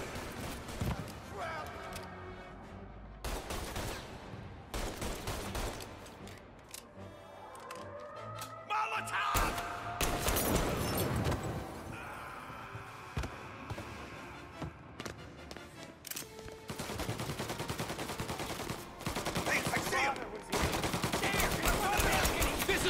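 Gunfire in Mafia: Definitive Edition, a busy city shootout with bursts of shots and sharp cracks running through the scene, mixed under shouting voices and game noise.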